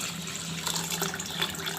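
Water pours over washed rice in a bowl to soak it, a short, steady splashing stream heard up close at modest volume, without any talk.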